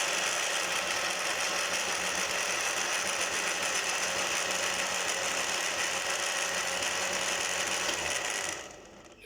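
A kitchen grinder whirs loudly and continuously while grinding mint leaves for mint soda, a dense, steady motor drone that stops abruptly at the end.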